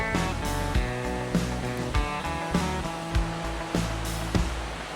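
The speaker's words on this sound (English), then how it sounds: "Look at the waterfall." Constant roar of a waterfall on South Africa's Panorama Route in the background, with several brief knocks and bumps nearby over the steady rush.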